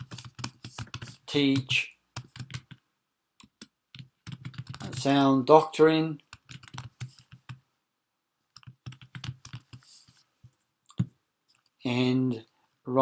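Typing on a computer keyboard to enter a title in an online form: a light, scattered clicking of keys that continues on and off while a person talks.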